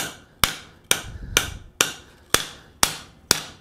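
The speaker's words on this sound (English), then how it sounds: "Go ahead and use a set hammer at this point in time." A blacksmith's hammer strikes hot steel while forging a fold-formed bowl, seven sharp ringing blows at an even, steady pace, close and loud.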